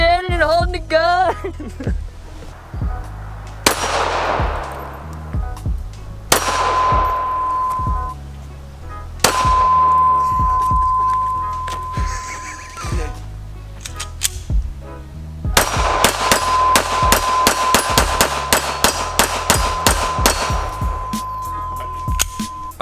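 Ruger LC9s 9mm striker-fired pistol fired outdoors: sharp loud single shots spaced a few seconds apart, then a rapid string of many quick shots, with ringing metallic tones between them.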